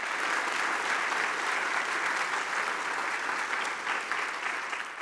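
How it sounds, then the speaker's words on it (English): Sustained, dense applause from a concert audience at a high school spring concert, steady and full throughout with no talk over it, fading slightly at the end. "Can we give them, the techs, everybody, a huge round of applause?"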